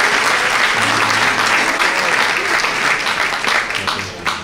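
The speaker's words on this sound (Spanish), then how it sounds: "Un fuerte aplauso para Sandra Hernández." An audience at a serenata tribute concert gives a singer a strong round of applause, dense steady clapping with a few scattered voices, holding loud for several seconds before easing off.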